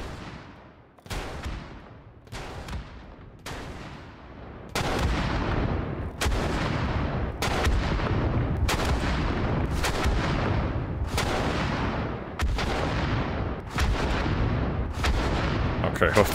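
Artillery-like firing system in a video game, about a dozen heavy booming shots at roughly one-second intervals, each with a sharp attack and long decaying rumble, growing louder after the first few.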